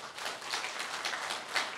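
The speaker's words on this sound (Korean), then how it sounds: "제 말이 맞다고 동의하시면 박수 한번 쳐주시죠." Audience applause at a public forum in Gyeonggi Province, a steady wash of many hands clapping that holds evenly for a couple of seconds with no voices over it.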